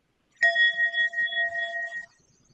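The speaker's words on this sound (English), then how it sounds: "I thought for a minute you weren't going to ring the bell there" A single bell is struck during a blessing at a seminar, giving a clear, sustained ringing tone with steady overtones that fades out after about a second and a half, close and alone.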